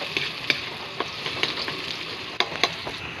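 Meat sautés in a pan for chop suey, a steady close sizzle broken by several sharp stirring clicks and scrapes of the utensil against the pan.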